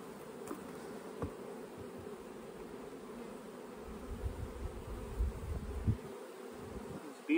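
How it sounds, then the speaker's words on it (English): Bees buzz continuously in a soft, steady drone, with occasional louder passes of individual insects close by. "These bees are up."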